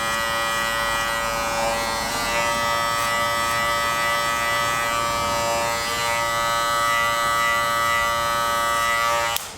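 Electric hair clippers buzz continuously and up close while lining up a haircut, a steady high-pitched motor hum that shifts slightly in tone as the blades move along the hairline, with no talking.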